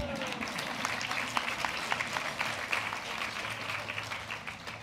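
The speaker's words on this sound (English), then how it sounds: "You can applaud." An audience applauds continuously, a dense patter of many hands clapping at moderate volume throughout.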